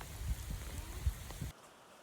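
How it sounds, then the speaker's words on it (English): Rain beats on the roof of a farm building in South Alabama, a faint, dense patter lasting about a second and a half before cutting off abruptly. "Hopefully the rain beating on the roof isn't making it too difficult here"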